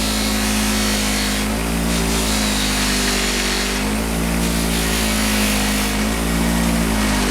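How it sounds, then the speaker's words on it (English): A motorcycle-sprocket polishing wheel, just used with red compound, is raked clean while spinning: a loud, steady motor drone with a scratchy rasp layered on top that swells and eases over several seconds, with no voices. "But this is called raking the wheel."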